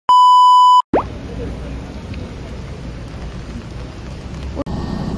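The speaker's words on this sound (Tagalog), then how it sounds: "Tuloy kahit umuulan." Rain falls steadily in Taichung, Taiwan, a dense, even hiss that runs for several seconds right after a short, sharp electronic beep.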